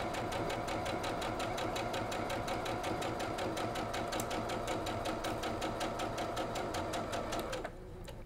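A sewing machine chain-pieces a lattice quilt block, its needle chattering in a fast, even rhythm close by, the steady run stopping abruptly just before the end.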